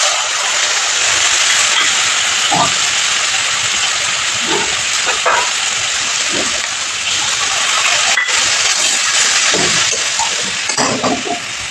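A ground spice paste, added to fried onion and garlic, sizzles loudly in a hot pan with a constant steady hiss, broken by occasional clinks of a utensil against the pan; no talking.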